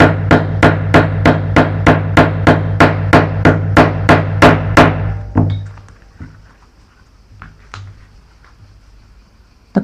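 A rivet setting tool is struck repeatedly with a hammer while fitting snaps to a handmade leather glasses case: about fifteen sharp, close, evenly spaced blows in quick rhythm, then quiet handling and a few faint knocks.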